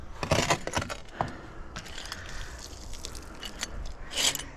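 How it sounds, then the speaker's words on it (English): Brass keys jangle and clink together at close range in a scrap yard, a loose metallic rattle in bursts with a brighter cluster of jingles near the end, no talking. "Brass keys."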